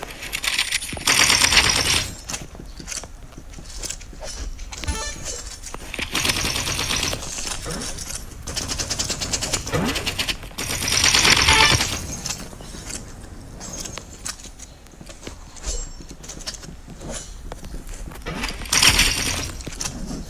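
Bursts of AUG rifle fire with a gingerbread weapon skin in a shooting video game ring out in several clusters of sharp, rapid shots, with quieter clicks and game sounds between them.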